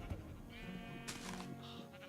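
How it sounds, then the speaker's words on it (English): Sheep bleating in the video game Minecraft, a few short wavering bleats close by over low background, no talking. "There's a million sheep here."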